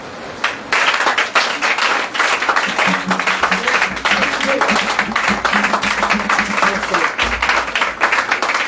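A congregation at a charismatic church revival service in Tiassalé gives sustained, dense applause as an offering of acclamation. The clapping stays loud and steady throughout, with a voice rising over it partway through.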